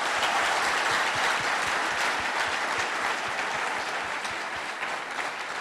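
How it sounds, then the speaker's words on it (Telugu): Sustained applause from an audience at an award ceremony honoring a welfare foundation, dense and loud clapping that holds steady throughout before easing slightly at the end. "10 మందికి అన్నం పెడుతున్న అజర్ మక్సూసి కోసం ఇప్పుడు మీరు కొట్టే చప్పట్లే తనకు ఆశీర్వాదాలు."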